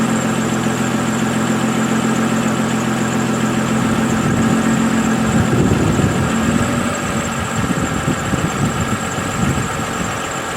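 A car engine idles steadily and loudly throughout, its low rumble becoming rougher and more uneven in the second half.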